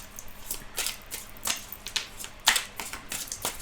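Oracle cards being shuffled by hand make a string of soft, quick riffling snaps and flutters at close range, irregular in rhythm, with no talking.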